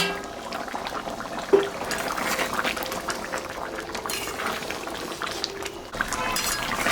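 Mutton curry gravy bubbles at a vigorous, steady boil in a pot for a Holi-special grandmother's recipe, with close, continuous bubbling and a brief clink of cutlery.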